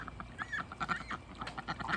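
Ducks quack in a flock on a hot day, a quick run of raspy, overlapping calls close by and moderately loud, with no talking.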